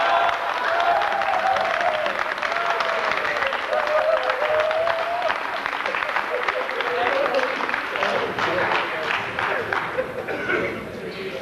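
An audience at a farewell party gives a long burst of dense applause, clapping and some cheering close and loud, with a voice speaking over it in the opening seconds.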